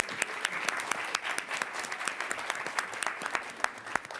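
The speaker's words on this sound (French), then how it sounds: "On les applaudit aussi." An audience at a Cannes 2025 press conference for the film Alpha applauds with sharp, distinct, closely spaced claps that keep a fairly even rhythm for several seconds, near and clear with little other sound.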